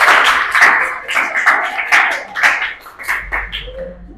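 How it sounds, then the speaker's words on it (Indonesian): An audience claps for a presentation group in a classroom, a short burst of irregular claps lasting a few seconds before tapering off. "silakan tepuk tangan buat kelompok"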